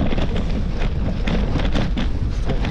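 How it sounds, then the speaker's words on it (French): Wind buffets the microphone of someone cycling through an open field, a loud, steady rumbling roar with gusty flutters and no voices. "Le vent m'a tué là."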